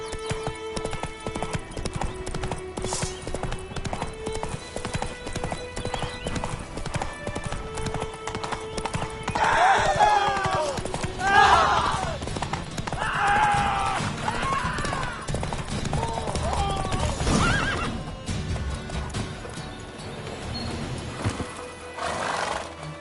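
Roach, Geralt's horse in The Witcher 3, gallops with steady clip-clopping hooves and lets out several loud whinnies and neighs, with game music and effects underneath.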